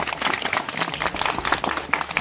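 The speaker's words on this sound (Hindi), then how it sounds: "तो इसके लिए भी जोरदार तालियां।" Dense, continuous clapping from a crowd at a school farewell and prize-giving ceremony at a government inter college, loud and steady throughout.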